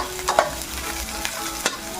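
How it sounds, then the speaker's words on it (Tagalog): Onion, garlic and ginger sautéing in a pan for a crab and squash coconut stew, a soft steady sizzle with a few brief scraping stirs, close and alone. "Kaya mas maganda gisahin siya para lumabas yung lasa niya talaga."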